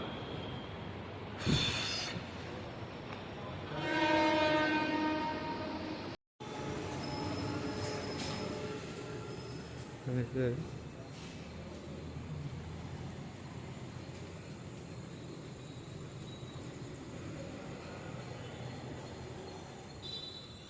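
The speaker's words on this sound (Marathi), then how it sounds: "इथून आम्ही आता लोकल पकडून जाणार आहोत थेट दादरला" Mumbai local train at Vile Parle station, with steady rumbling rail noise throughout, a brief squeal of wheels early on, and a short break before the continuous hum of the train resumes.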